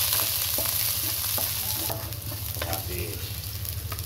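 Onions sautéing for sinigang sizzle steadily in a hot pan with a constant frying hiss, broken by a few soft scrapes of stirring, with no voices.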